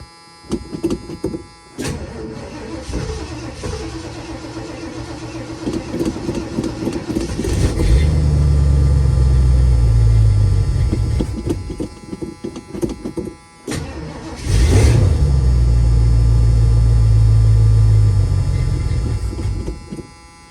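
A 1977 Mercury Cougar XR-7 engine cranks, catches and revs in two long, loud surges separated by a short dip, with a deep rumble close by and no talking.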